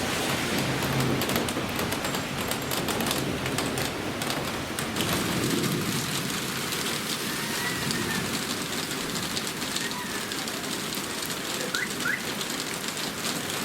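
Heavy downpour during a summer thunderstorm in a Bishkek street, dense continuous rain hiss with low rumbles of thunder, steady and loud throughout, with no voices.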